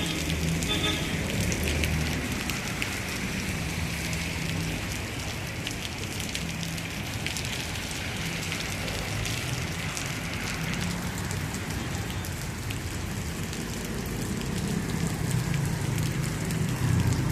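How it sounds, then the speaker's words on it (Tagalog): Sudden heavy rain in Los Baños, Laguna, a steady dense hiss of drops on surfaces that runs unbroken, with a low rumble underneath. "Umulan eh."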